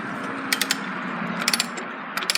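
A wrench works a bolt on a 2009-2016 Harley touring front motor mount, giving short bursts of sharp metallic clicks in quick groups of three or four over a low background hum, close by.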